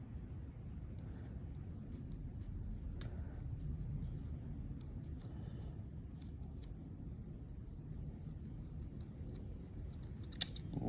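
Paracord being snipped with scissors for a sling loop, a series of short crisp cuts and clicks over a steady low background rumble, close and fairly quiet.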